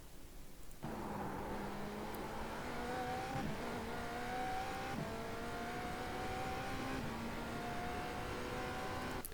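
IMSA GTP prototype race car lapping Imola in the iRacing simulator, its engine note rising and falling steadily through gear changes over a continuous roar, with no speech.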